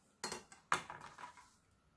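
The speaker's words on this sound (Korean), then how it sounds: "이렇게 했으면 필살 모양으로 반대쪽으로도 또 칼집을 넣어줍니다" A knife scoring crosshatch cuts into squid for stir-fry, heard as two quiet, close taps of the blade against a cutting board with faint scraping after, and no talk.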